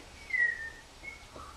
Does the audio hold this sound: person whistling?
yes